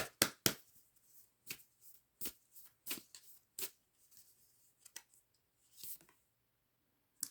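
A deck of oracle cards shuffled by hand, quiet and close, in sharp flicking bursts that come in uneven clusters with short silent gaps between them.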